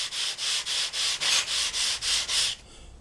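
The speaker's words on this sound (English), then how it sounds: "just rub the sandpaper across there over the top of the spar, just to make sure" Sandpaper rubbed back and forth over a wooden wing spar on a model glider build, nine even rhythmic strokes, close and fairly quiet, then it stops.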